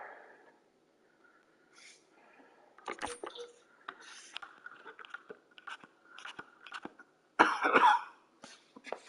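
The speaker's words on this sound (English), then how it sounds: "Still got a sore throat and a little bit of a cough" A person with a sore throat coughs repeatedly, several short dry throat-clearing bursts scattered over quiet moments, ending in a louder harsh cough burst, close and unaccompanied by talk.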